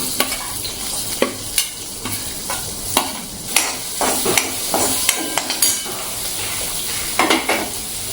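Chopped onion is dropped into hot oil tempered with cumin and mustard seeds. It gives a close, continuous sizzle, broken by sharp scraping and clinks from a spoon stirring in the pan.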